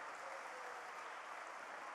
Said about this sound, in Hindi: खड़े हो जाइए, जरा ताली बजा करके इनका स्वागत कीजिए।